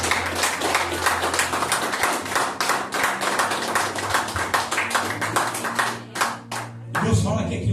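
A church congregation applauding at a preaching service, dense rapid clapping from many hands filling the room, fading near the end as a voice begins speaking.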